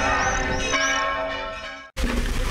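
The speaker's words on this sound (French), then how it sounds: "Ils vont me péter un tympan avec ces cloches." Loud, resonant church bells ring noon close by, their overlapping tones sustained and dense, cutting off abruptly before another peal starts again.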